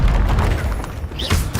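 Spell blasts from the Hogwarts Legacy video game, a run of booming thuds and bursts in quick succession, loud and close.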